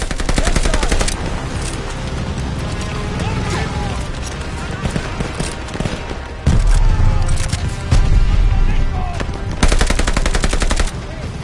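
Dense machine gun fire rattles almost continuously in a Call of Duty Vanguard battle on PS5, bursts layered with heavy booms and shouting soldiers' voices over the gunfire.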